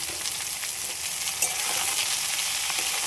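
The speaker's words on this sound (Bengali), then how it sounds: "এবার এই সবজিগুলো দিয়ে দেবো।" Potatoes and eggplant hit frying onions in a pan, a steady close sizzle with a brief stirring scrape, then a slightly louder, continuous fry.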